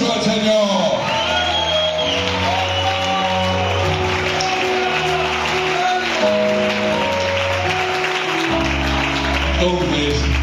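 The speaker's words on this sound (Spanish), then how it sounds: "Dale ese aplauso al Señor." Church congregation at a Spanish worship service claps and cheers, with shouts and whoops over loud music and a preacher's voice throughout.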